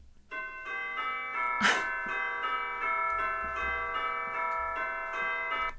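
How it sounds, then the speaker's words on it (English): Church bells ring out in overlapping, resonant peals, with repeated strikes blending into a sustained metallic chime throughout. "here's church bells. This is a sound effect."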